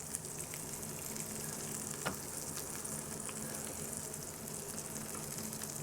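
Burger patties and buns for a three-alarm burger sizzle on a hot griddle, giving a steady, dense frying hiss with faint crackles throughout and one brief pop.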